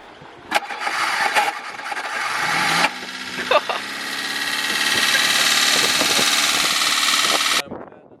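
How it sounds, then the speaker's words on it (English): An unhealthy-sounding starter on a BMW E34 grinds and cranks roughly in uneven bursts, then the engine catches and runs loudly before cutting off, close up. "the starter doesn't sound so healthy either"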